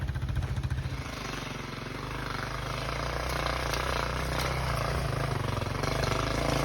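A Yamaha YTM 200 three-wheeler runs on a trail ride. Its engine holds a steady, close, buzzy idle-to-cruise drone with a pulsing low throb throughout and no talking.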